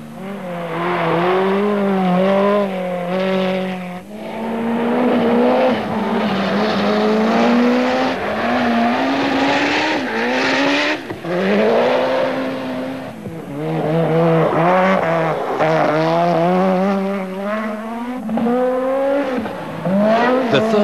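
Rally cars at the 1987 Pikes Peak hill climb, including a Peugeot 205 Evolution, Ford RS200 and Mazda RX-7, roar loudly and continuously, engines rising and falling through gear changes and revs.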